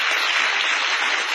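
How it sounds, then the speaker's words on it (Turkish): Applause from an audience, a steady dense wash of clapping held at an even level throughout, with no voices over it. "Bir alkış da onlara"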